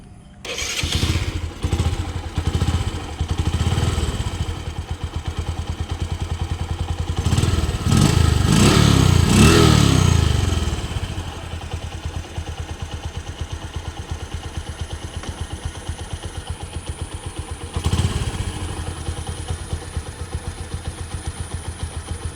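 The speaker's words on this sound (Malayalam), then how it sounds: "ഇനി വണ്ടി സ്റ്റാർട്ട് ചെയ്തിട്ട് എങ്ങനെ ഇനി നോക്കാം" A motorcycle engine cranks and catches, revs loudly for a few seconds, then settles into a steady, rattling idle with a brief rev near the end.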